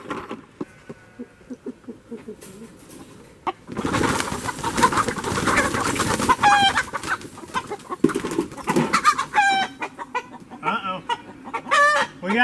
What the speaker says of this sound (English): We got chickens loose.